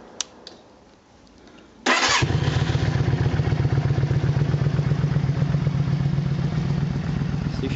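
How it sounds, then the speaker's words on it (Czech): A Yamaha Virago 535 motorcycle is cranked and fires on the first try, a short starter whir before the engine catches and settles into a loud, close, steady idle with a rhythmic throb. "nyní si provedeme start motorky"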